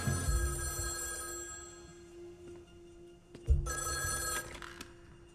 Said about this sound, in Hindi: जनाब आपके लिए फोन है।